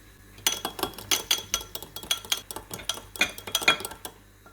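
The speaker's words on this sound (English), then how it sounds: "I chopped it as fine as possible, and now we're gonna mix this again" Chopped garlic is stirred into a salad in a bowl, with a spoon clinking and scraping against the dish in quick irregular strokes, close and fairly loud, with no talk.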